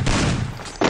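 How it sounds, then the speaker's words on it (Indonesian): A short burst of gunfire in the game Free Fire, heavy booming shots close together, with a second blast starting right at the end. "ada suara tembakan-tembakan di sana"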